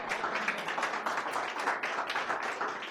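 A church congregation claps hands together in thanks during a Hindi sermon, a dense, steady patter of many palms continuing for the full stretch with no pause.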